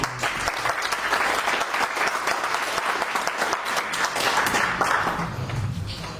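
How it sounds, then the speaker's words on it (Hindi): A large audience at a motivational wellness seminar claps loudly and continuously, dense applause filling the room for several seconds before easing slightly at the end. "तो जोरदार तालियां आप लोग।"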